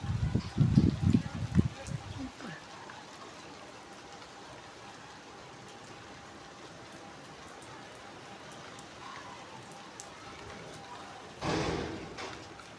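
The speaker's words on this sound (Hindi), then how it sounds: "जुगनू, आप बारिश देख रहे हो?" Steady rain hisses evenly for several seconds after a brief burst of nearby talking, with a dull thump late on.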